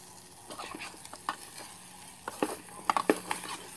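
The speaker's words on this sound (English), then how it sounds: "We're going to put the eggs product in here now. Scramble up a little eggs." Eggs are scrambled and frying in a canteen cup with SPAM fried rice: a steady close sizzle runs under sharp metallic scrapes and taps of a utensil stirring, with the stirring growing busier toward the end.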